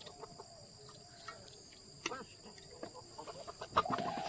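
Chickens cluck softly and sporadically at a distance in a quiet setting, with a few louder squawks near the end.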